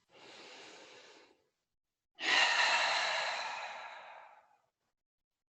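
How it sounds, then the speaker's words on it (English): Two slow breaths during a yoga low lunge with arms raised overhead: a soft exhale lasting about a second, a pause, then a longer, louder breath trailing off over two seconds, close to the microphone with no talking. "1 breath in and out here."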